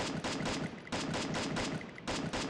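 Rapid automatic gunfire in the shooting game Free Fire, loud and close, coming in three sustained bursts with brief gaps between them and no talking.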